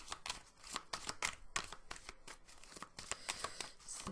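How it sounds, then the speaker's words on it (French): Tarot cards shuffled, drawn and flicked during a card reading, a quick run of soft crisp snaps and riffles close by, fairly quiet, with no speech over them. "Je vais retirer une carte quand même sur la joie."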